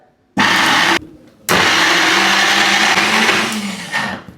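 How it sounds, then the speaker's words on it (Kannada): A blender grinds chicken keema with ginger garlic paste, mint and black salt, running loud and close in two bursts, a short whirring pulse followed by a brief pause and then a longer steady grind that eases toward the end. "ಸೊ ಆಲ್ಮೋಸ್ಟ್ ಎಲ್ಲ ಹಾಕಿ ಇವಾಗ ಒಂಚೂರು ಗ್ರೈಂಡ್ ಮಾಡೋದು"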